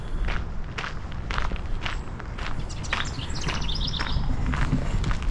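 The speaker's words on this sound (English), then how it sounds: "You can definitely hear the birds here." Footsteps tread steadily along a boardwalk through a pine arboretum in spring, with scattered bird chirps and tweets audible faintly in the background.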